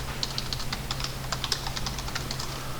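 Computer keyboard keys clack in a quick, irregular run of crisp taps while CAD commands are entered, close and fairly quiet over a faint low hum.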